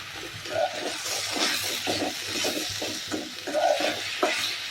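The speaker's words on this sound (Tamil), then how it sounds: "நறுக்கி வச்சுருக்க தக்காளியை கொட்டிடலாம்." Chopped tomatoes hit hot oil seasoned with cumin, asafoetida and rock salt in a pan and are stirred, giving a close, steady sizzle broken by repeated scraping strokes.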